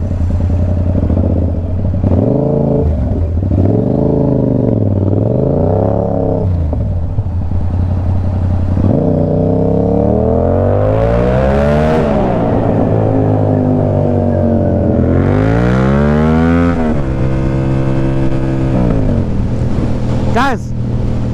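A Yamaha R7 motorcycle engine on the road, loud and close, repeatedly revving up and easing off through rising and falling sweeps, with a rider's voice speaking over the engine.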